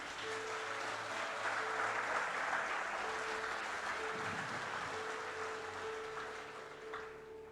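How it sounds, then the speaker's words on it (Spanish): A church congregation applauding the Lord during a sermon, sustained dense clapping from a crowd heard at moderate distance, with a faint voice or tone running beneath. "Aplauda fuerte al Señor."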